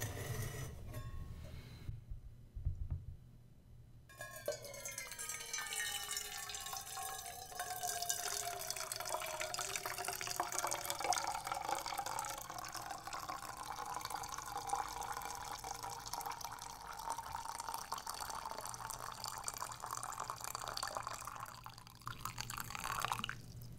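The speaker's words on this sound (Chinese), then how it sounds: "我把这个咖啡壶里面装满，刚刚事前准备好的热水" Hot water poured into a coffee pot, a steady trickling stream heard close and fairly quiet, starting after a brief pause and running continuously with no talking.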